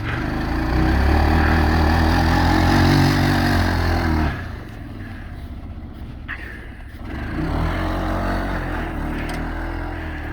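A truck-pulling engine roars at full throttle, loud and sustained, then suddenly falls to a lower strained drone and builds again toward the end.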